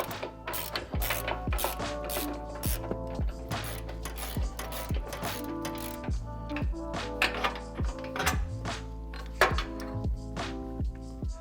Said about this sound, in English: All you need to do is pull out this nut and bolt that we had earlier that we loosened up.